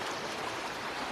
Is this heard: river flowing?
yes